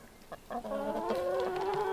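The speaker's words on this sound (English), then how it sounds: "The older chickens, the Rhode Island Reds, are doing quite well." Rhode Island Red chickens cluck and murmur nearby, a few short calls giving way to a steady run of clucking with no talking.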